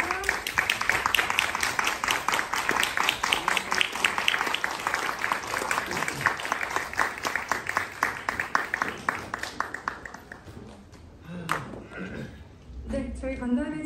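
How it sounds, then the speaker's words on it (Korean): A press conference audience gives warm, dense applause welcoming the director and actors, sustained for about ten seconds before fading out as voices and small movement sounds take over. "뜨거운 박수로 맞아주시기 바랍니다."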